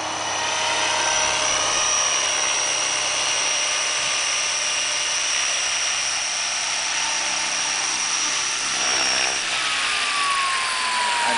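A Flasher 600E Sport RC helicopter with a Phoenixtech DT5035 1000kv motor and SR100A ESC flies overhead, giving a steady, piercing electric whine over a continuous rotor buzz. Near the end a tone slides downward.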